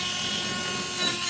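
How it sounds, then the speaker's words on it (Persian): A power sanding machine smooths wood in a Tehran woodworking shop, a steady high-pitched whirring hiss that stays close and loud throughout, with no talking. "این سنباده کاری داره می‌کنه"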